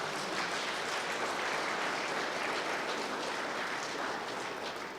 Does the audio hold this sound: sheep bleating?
no